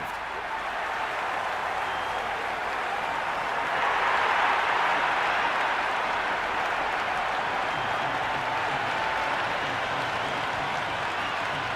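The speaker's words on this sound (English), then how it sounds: "the crowd have joined the party. It's pretty noisy at the ground." In the Cricket 26 video game, a stadium crowd keeps up a continuous, dense roar at the ground, a steady wash of cheering and clapping without any break.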